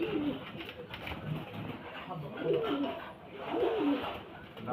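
Caged pigeons coo in repeated low, rolling phrases close by over a faint background hiss, in soft bursts that rise and fall.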